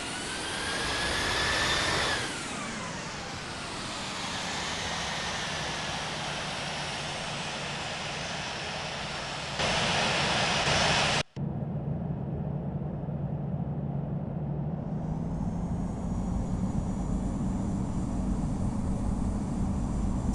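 Boeing 787 jet engines spool up for takeoff in the Infinite Flight simulator, a loud steady roar with a rising whine, briefly cut, then resuming with a high hiss on top.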